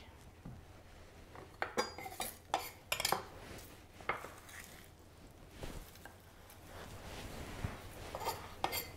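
Pots, pans and metal utensils being cleared off a stovetop, giving a burst of close, irregular clinks and clatters of cutlery and cookware, then quieter shuffling and a few more scattered knocks.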